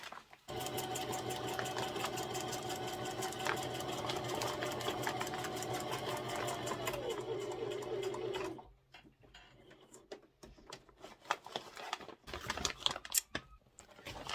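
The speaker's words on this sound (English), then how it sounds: "put it in our machine, and we are going to sew a straight stitch all the way around this bag to hold this seam down" A sewing machine runs a straight stitch around a bag made from a recycled pet food sack, with a fast, even whirring rattle for about eight seconds. Softer handling sounds and a few light clicks follow.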